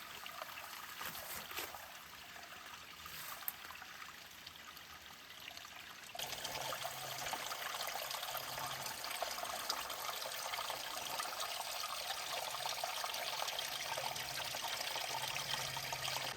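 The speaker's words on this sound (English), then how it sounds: "the creek sounds like it's right next to us" A steady trickling, rushing flow of Trout Creek close by, near Index, Washington, continuous and moderately loud, stronger after the first few seconds, with no voices.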